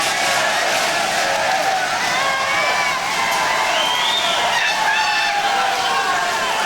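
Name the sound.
partisan crowd cheering at an MMA fight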